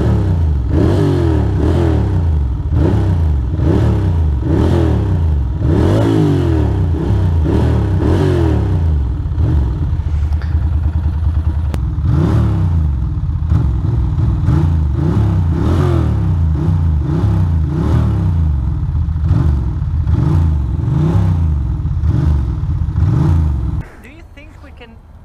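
A Ducati Scrambler motorcycle revving on the street, its engine rising and falling in loud repeated throttle blips, then settling to a steady drone before cutting off near the end, with voices talking over it.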